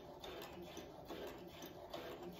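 A Brother sewing machine runs a back stitch on a McCall L9501 pattern project, giving a steady, faint, continuous mechanical whirring and rapid ticking without pauses or talk.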